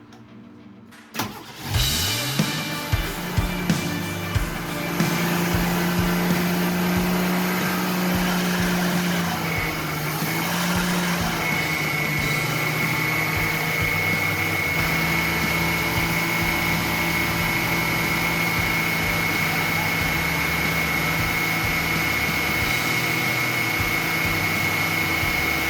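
A 1979 Chevy Nova engine with a rebuilt carburetor cranks, catches with a few uneven bursts, then settles into a loud steady idle with a persistent hiss from a vacuum leak and a high whine rising partway through.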